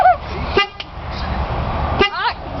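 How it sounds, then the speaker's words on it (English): A car horn honked by a baby sounds in two short toots, close and loud, separated by a pause and surrounded by people talking inside the car. "Honk your horn."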